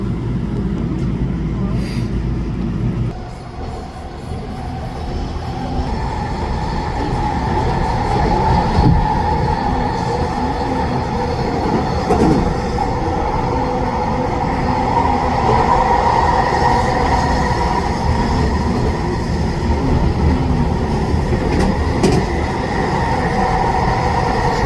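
Westbound rail cars rolling past at a transit station, a long steady rumble with faint wheel noise, recorded from nearby; voices murmur now and then beneath it.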